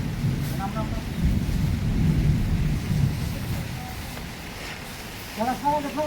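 Rain falling during paddy threshing outdoors, a steady rushing wash with low wind rumble throughout, while people talk nearby.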